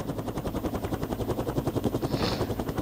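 A smoking, damaged helicopter in a video game gives a steady, loud rotor thump with fast rhythmic chopping and engine drone that fills the whole stretch with no let-up.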